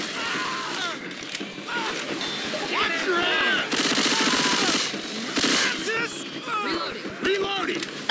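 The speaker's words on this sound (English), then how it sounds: "I'm shooting at Barrel like crazy, I just realized." Rapid gunfire in the zombie shooter Left 4 Dead 2, with quick repeated shots in sustained bursts and brief gaps between volleys.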